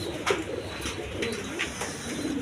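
Soft, low pigeon coos repeat a few times in the background amid faint rustling and flutter.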